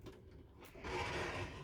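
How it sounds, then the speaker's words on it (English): Interior door sliding across in the dressing room of a 2022 Carthago liner S plus i61 XL LE motorhome, a brief quiet rolling swish after a faint knock, close by and alone. "And there's a door that comes across here as well."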